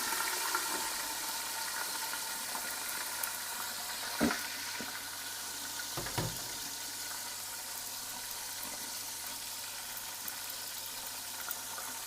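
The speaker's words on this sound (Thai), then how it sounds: "น้ำมันร้อนดีแล้วครับ ปาลงแล้วก็ปิดฝาไว้เลยครับ กันน้ำมันกระเด็น" Sea bass frying in hot oil in a covered pan: a steady, even sizzling hiss with a few faint pops and clicks, no voices.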